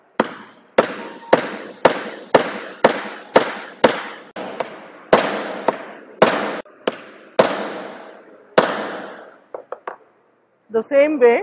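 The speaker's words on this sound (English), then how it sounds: "Now hold straight the chisel, go for, use the hammer." Sharp metallic hammer blows on a chisel cutting metal in an engineering fitting workshop, about fourteen evenly spaced ringing strikes, close and loud, followed by brief speech at the end.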